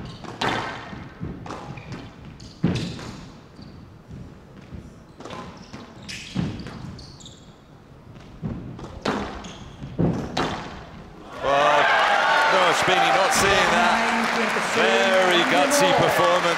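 A professional women's squash semifinal rally produces sharp, irregular ball thuds and racket hits echoing around the court, ending in sustained loud applause; voices can be heard during play.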